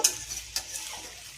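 Soft continuous sizzling of ridge gourd and potatoes frying uncovered in a pan, with a brief stirring scrape near the start, steady and close.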